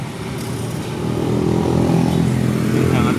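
A 2018 Wuling Cortez 1.8L car engine fitted with a fuel saver revs up from idle to a louder, steady, rough drone, close by, with faint talk in the background.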